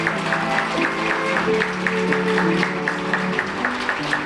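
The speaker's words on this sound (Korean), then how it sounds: "내빈 여러분들께서는 신랑 신부가 인사할 때 큰 격려의 박수를 부탁드립니다." Wedding guests at a hotel ceremony applauding, a continuous soft patter of clapping blended with sustained instrumental music from a classical trio, moderately loud throughout.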